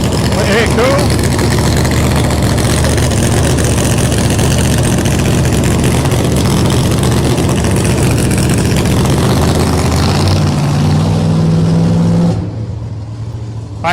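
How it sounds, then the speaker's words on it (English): Supercharged air-cooled race car engines idle loudly in the pits, running lean and picking up revs in a steady droning roar with rising pitch near the end, then the din eases abruptly. "you just hear the cars leaning out a little bit. They pick up a revs"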